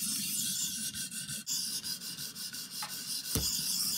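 Metal being sharpened on a stone scrapes in short, repeated rubbing strokes that carry away metal shavings, the rasping close and moderately quiet, with a brief knock near the end.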